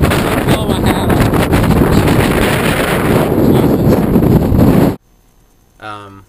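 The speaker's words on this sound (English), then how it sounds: "We have 44 mile-an-hour gusts right now." Strong 44 mph wind gusts buffet the microphone in a loud, continuous roar, then cut off abruptly, leaving near silence before a voice begins speaking.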